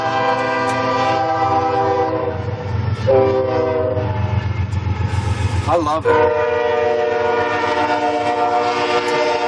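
Freight train passing a campground at night in Hugo, Colorado, with loud, sustained horn blasts over a heavy, continuous rolling rumble close by; a voice speaks briefly beneath it.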